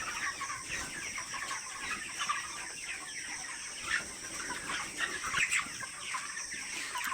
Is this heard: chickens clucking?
yes